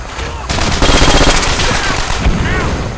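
Rapid automatic fire from an FG42 machine gun in Call of Duty: World at War, a loud, dense burst of gunfire with overlapping shots and impacts.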